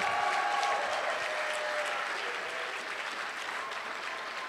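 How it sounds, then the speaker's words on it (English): A crowd applauds at a medical school Match Day awards ceremony, a sustained dense clapping that stays even and fairly strong before easing off slightly, with no voices over it. "We're going to have to hold the applause until I go through a few, and then we'll do one big applause"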